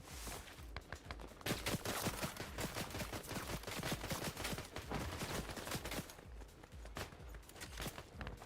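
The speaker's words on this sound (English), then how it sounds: "Can you stop shooting me?" Rapid bursts of gunfire from a Fortnite match, dense and crackling with overlapping shots and a few footsteps, steady and fairly loud throughout, with no one speaking.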